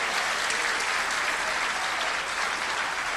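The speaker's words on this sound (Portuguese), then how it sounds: "Um aplauso lindo ao Senhor Jesus." Loud, dense applause from a church congregation for the Lord Jesus, a continuous close roar of clapping hands filling the whole moment without pause.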